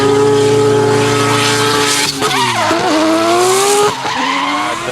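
A Mazda RX-8 drift car skids hard through a qualifying run at a D1NZ drifting round in Christchurch, its loud, revving rotary engine wailing and shifting pitch over screeching tires, close and continuous.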